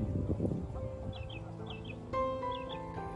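A hen clucks and squawks in short agitated bursts as she is being caught, with several quick cackling calls close by and faint rustling in between.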